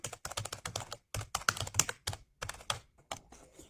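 Rapid typing on a computer keyboard during data entry, close and clear, with bursts of quick keystrokes separated by brief pauses and no talking.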